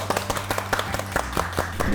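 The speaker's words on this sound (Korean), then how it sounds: "오늘 안내를 해주신 우리 청주향기의 총무국장님께 감사의 박수" A small group claps in thanks for a tour guide at a Korean Confucian academy, scattered sharp claps in an uneven rhythm close by, with a low steady hum underneath.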